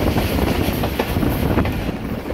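The 28 Down Shalimar Express picks up speed leaving Faisalabad, a loud dense rumble of wheels and carriages with wind buffeting the microphone, steady throughout and no voices.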